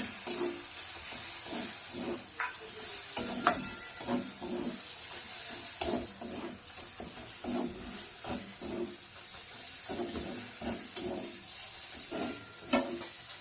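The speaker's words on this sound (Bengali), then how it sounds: "এবার এই মশলাটা মধ্যে দিয়ে দেবো ভালো করে সব কিছু দিয়ে একসঙ্গে কষিয়ে নেব" Ground masala is stirred and sautéed in a pan with a cauliflower curry, giving a steady sizzle broken by repeated scraping strokes of the spoon in a regular rhythm, close and moderately loud.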